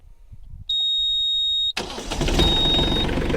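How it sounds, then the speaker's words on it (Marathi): A steady high electronic beep sounds for about a second, then an engine cranks and roars to life, settling into a loud rumbling idle. "तर आपण ट्रॅक्टर चालू करणार आहोत"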